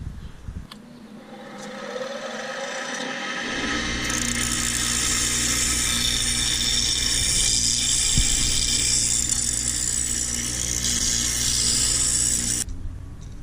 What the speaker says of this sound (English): I'm gonna take this old screwdriver here, I'm gonna shave it down a little bit